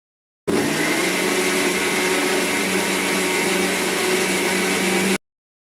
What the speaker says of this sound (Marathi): आता आपला हा मसाला वाटून झालेला आहे